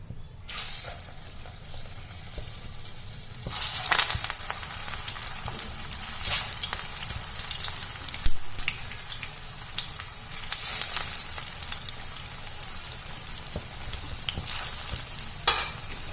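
Taro leaf parcels deep-frying in hot oil over a low flame give a steady, close sizzle and bubbling that runs throughout, with brief stirring or turning noises breaking in now and then.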